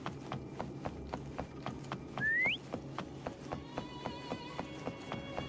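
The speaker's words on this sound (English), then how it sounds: "Try whistling." In a video game, a person gives a single short rising whistle to call a horse named Foam, heard over a steady rhythmic clip-clop of hooves, followed by soft tonal chimes.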